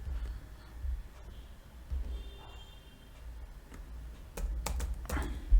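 Soft keystrokes on a computer keyboard during data entry, faint and close, with a burst of sharper clicks toward the end over a low background hum.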